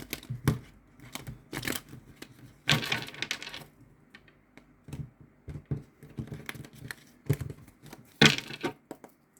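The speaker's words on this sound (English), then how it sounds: "I'll do one more shuffle because that was a crap shuffle." A deck of oracle cards being shuffled by hand during a reading, with bursts of riffling and soft slaps and clacks of cards coming in uneven clusters, fairly close and with no talking.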